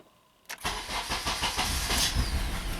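A Honda K24 engine cranks and fires after a short silence, then runs rough and uneven with a loud, pulsing idle that carries on steadily to the end.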